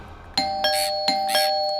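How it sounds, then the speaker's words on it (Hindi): A doorbell rings twice in a row, each press giving a bright two-tone chime that rings clearly and close, with no voices over it. "कोई घंटी बजा रहा है और तुम दरवाजा नहीं खोल रहे हो?"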